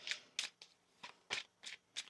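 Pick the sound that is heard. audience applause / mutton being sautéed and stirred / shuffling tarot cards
shuffling tarot cards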